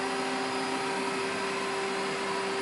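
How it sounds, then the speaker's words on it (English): Swimming pool filter running in a house, a steady, unbroken mechanical hum with a constant tonal whine, moderately loud throughout with no voices. "If you're wondering what that noise is, it's just the pool filter."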